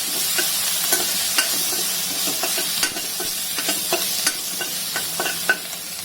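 Grated ginger sizzles in a pan over a low to medium flame while a utensil stirs it, giving a steady hiss of frying with repeated scraping taps at an even pace.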